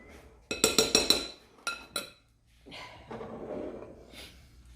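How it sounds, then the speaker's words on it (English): Cake batter ingredients for a Louisiana Crunch cake stirred in a bowl: a quick run of close spoon clinks against the bowl, a pause, then a softer, steady scraping swirl. "we'll stir those a little bit to combine them so that they're somewhat uniform"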